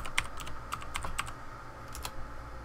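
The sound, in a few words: typing a username on a computer keyboard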